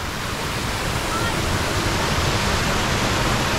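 Rushing water at Shnurok waterfall near the village of Aderbievka in the Gelendzhik backcountry: a loud, steady, close roar of falling water that holds unbroken throughout, with no voices.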